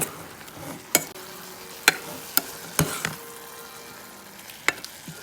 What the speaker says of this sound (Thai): คนให้เข้ากันเลย